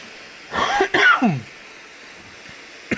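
A character in the survival video game The Long Dark gives a short, close cough burst of two or three hacking coughs, followed by quiet.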